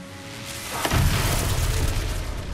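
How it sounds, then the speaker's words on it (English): A bottle rocket blows up in the video game Hogwarts Legacy as a single deep, loud boom that rumbles on for a second or two. No one speaks over it. "Bottle rocket."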